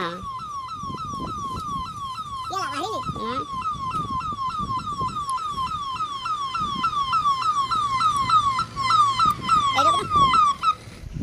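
Wailing fire engine siren arriving at a village house fire rescue, loud and sustained with a rapidly repeating up-down sweep, with a second whooping siren cutting in briefly and low engine rumble and voices underneath.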